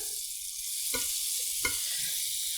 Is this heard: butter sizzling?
yes